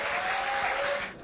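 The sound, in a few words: applause from lawmakers at a meeting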